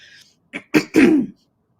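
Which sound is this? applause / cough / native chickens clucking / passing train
cough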